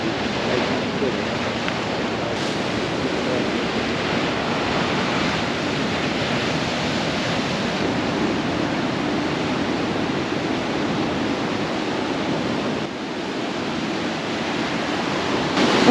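Steady, broad surf from the Caribbean Sea rolls onto a beach, a continuous close wash of breaking waves with some wind noise on the microphone, no talking.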